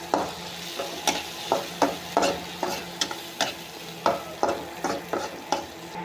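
Radish greens stir-fry in a generous amount of oil, giving a regular rhythm of scraping spatula strokes over a continuous close sizzle, with no voices.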